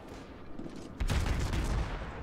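Battlecruiser Moskva's main guns firing a salvo in a naval video game, a sudden loud booming blast that rolls on as a sustained rumble after a quieter lead-in.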